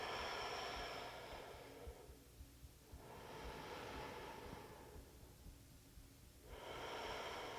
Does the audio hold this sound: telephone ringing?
no